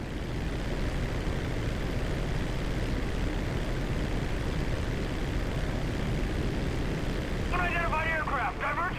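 A 1989 crop duster plane in Grand Theft Auto V, its engine a loud, constant droning roar throughout, with a brief warbling voice-like sound near the end.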